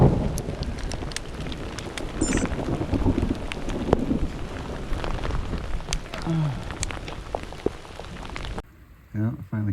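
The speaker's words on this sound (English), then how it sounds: "A lot of thunder and lightning." A monsoon thunderstorm hits a rider on sandy ground along a long-distance bike route: steady rain with wind and low rumbling thunder, loud and close, with a voice briefly heard near the end.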